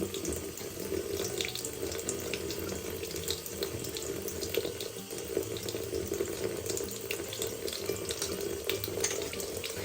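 Tap water runs steadily into a sink while makeup brushes are rinsed clean, a continuous close splashing hiss with no pauses.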